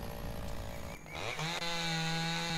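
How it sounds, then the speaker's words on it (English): Starter chainsaw cutting into a tree in the game Lumberjack's Dynasty: a buzzing two-stroke engine that dips, then revs up and climbs in pitch into a sustained loud whine as it bites into the wood. "So this is the chainsaw that we get from our uncle."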